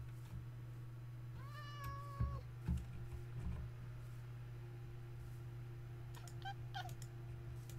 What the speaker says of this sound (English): Oh, its little meows are so cute.